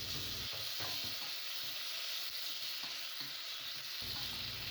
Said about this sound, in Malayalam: ഉള്ളി ഒന്ന് കുറച്ച് ബ്രൗൺ ആയ ശേഷം അതിലേക്ക് ഞങ്ങൾക്ക് മുറിച്ച് വെച്ച തക്കാളി കൂടിയും ഇട്ട് കൊടുക്കാം.